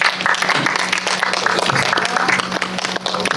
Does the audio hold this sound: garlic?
no